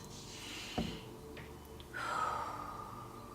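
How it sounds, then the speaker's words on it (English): A deep breath taken during a tapping session, one short sharp intake followed by a long, breathy exhale close to the microphone, alone in a quiet room. "Take a deep breath."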